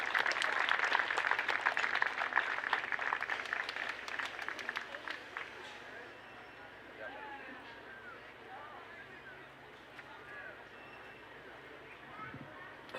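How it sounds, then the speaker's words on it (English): An audience at an evening junior livestock show claps for the kids with champion heifers. The applause is steady and moderate at first, then fades and dies away into quiet arena sounds. "Give these kids a good round of applause."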